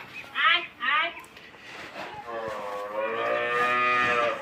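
Cow lowing in a Bangladeshi village: two short, close moos followed by a long, drawn-out moo that rises and holds, loud and clear over quiet background.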